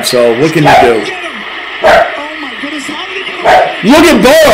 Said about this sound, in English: Yes, that's my dog barking in the background.